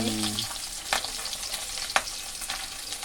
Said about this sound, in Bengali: ওইদিকে মা মাছ ভাজিচ্ছে